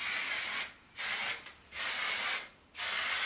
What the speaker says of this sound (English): this is the clear gloss and shine spray